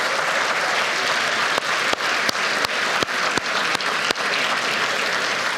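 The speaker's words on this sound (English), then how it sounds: "Please give them a huge round of applause." Sustained applause from an audience at an annual railway industry dinner and awards night, steady dense clapping filling the room with a few sharper claps standing out near the end.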